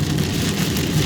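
Heavy rain pours steadily onto a paved town road in a storm, a loud, unbroken hiss of drops drumming on the surface with no pauses.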